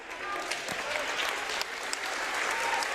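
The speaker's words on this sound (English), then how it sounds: "Applause from the crowd." Spectators in a school gym clap for an injured player getting up during a seventh-grade boys basketball game, a steady, moderately distant patter of applause with a few sharper individual claps.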